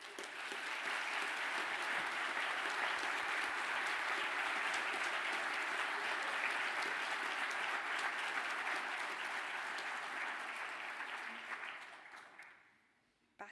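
Sustained applause from a large audience at a graduation ceremony for hotel and catering management graduates, a dense steady roar of clapping lasting about twelve seconds before fading away.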